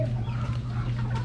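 Roosters and other chickens in a backyard coop cluck steadily nearby at feeding time, with a constant low hum underneath.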